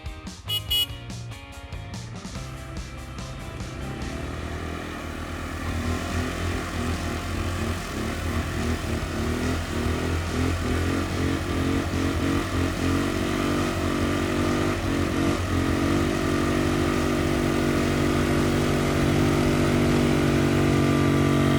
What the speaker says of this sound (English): let's try how they're able to move through the deep snow